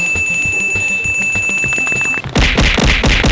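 A bright ringing bell tone in a game video, a sustained high chime over rapid rhythmic thumping game sounds, followed by a louder burst of busy effects.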